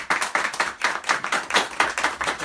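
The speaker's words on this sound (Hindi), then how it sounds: "हम तालियों की गूंज में भाई साहब को" An audience at a church gathering claps in a quick, steady rhythm to welcome a pastor, the repeated beats loud and fairly close.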